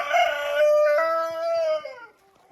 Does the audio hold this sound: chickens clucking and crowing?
yes